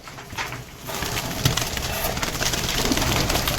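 Pigeons coo in a loft, heard among a dense flutter of wings and shuffling, with soft low coos rising over a constant close rustle.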